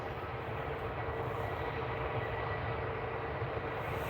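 An ITA Airways airliner arriving from Milan at Edinburgh Airport produces a distant, steady engine roar. It stays faint and even across the whole stretch with no voices.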